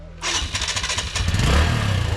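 A motorbike engine starts with a brief crank, then catches and runs steadily at a low, throbbing idle, loud and close, with rising rumble toward the end and no talk over it.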